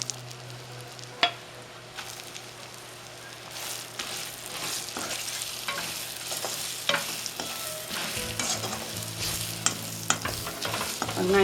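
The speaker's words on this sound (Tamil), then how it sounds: "பட்டை எல்லாம் சவுந்தோடனே வெங்காயம் போடலாம்." Sliced onions sauté in the oil left from frying prawns, with cinnamon for a Kerala-style prawn biryani. The hiss and sizzle are steady throughout, and a spoon scrapes and clinks against the pan now and then, up close and with no talk.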